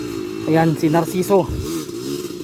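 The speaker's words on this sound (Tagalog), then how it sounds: "Sobrang lakas ng motor niyan. GT125." A GT125 motorcycle revving on a mountain trail in Cebu, a few short throttle blips rising and falling over a low idle, with someone talking over the engine.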